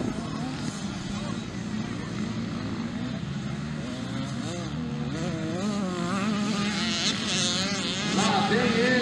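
A motocross motorcycle races past at a state championship round in Mato Grosso do Sul, its wavering engine whine building louder toward the end, with voices talking over it.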